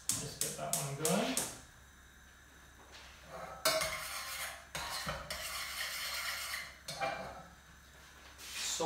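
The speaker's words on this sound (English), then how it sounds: "Stir it often so that it distributes the heat and so it doesn't stick at the bottom of the pan." A spoon stirring sauce in a pan for turkey roulade, clattering and scraping against the metal in irregular bursts, with a voice talking over it now and then.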